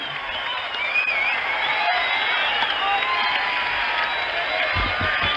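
Standing crowd at a baseball stadium roars and cheers during the bottom of the fifth inning of Game 7 of the 1975 World Series, Red Sox leading; a dense, loud, sustained wall of applause and whoops with no pause.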